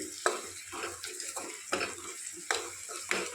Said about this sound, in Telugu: ఇప్పుడు కాకకాయల్ని వేసుకుందాం వేసుకొని మరొకసారి కలుపుకుందామండి